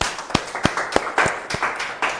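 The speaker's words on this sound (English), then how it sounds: "Can we give a round of applause to First Tech Foundation?" A small audience claps at a Women Pioneering the Future of Technology event, a short run of distinct sharp claps spaced at an uneven beat, moderately close and without voices.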